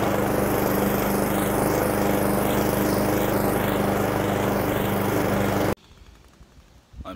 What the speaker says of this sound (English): I'm sweating my ass off mowing this goddamn yard